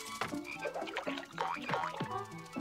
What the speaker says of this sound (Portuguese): Sapos em cima de vitórias régias, certo.